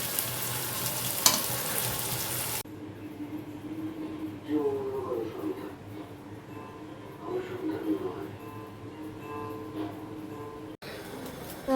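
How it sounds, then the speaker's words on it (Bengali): Fish fried with spices in a pan sizzles loudly at first, then settles into a softer, ongoing fry while a person talks over it. "মশলার সঙ্গে মাছটা একবারে কষানো।"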